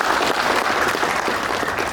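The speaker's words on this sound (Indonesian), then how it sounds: "Tepuk tangan untuk beliau." Sustained, dense applause from an audience at a national consolidation gathering of the GRIB Jaya organization, loud and steady throughout the short stretch with no voices over it.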